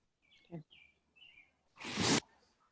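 A few faint bird chirps and calls outdoors, then a brief louder rushing whoosh, with quiet background.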